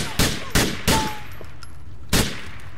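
Several sharp gunshots in GTA IV: three quick bursts close together, a pause, then one more shot, with faint game ambience between.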